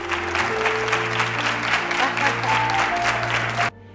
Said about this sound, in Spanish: Venga esta fuerte ovación que salga del corazón para un programa